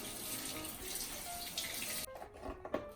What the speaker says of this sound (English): Let me rinse up my hands